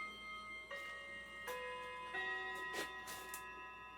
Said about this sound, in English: you're 5 minutes off on ringing there. Should ring at 10:15. You're ringing at 10:20.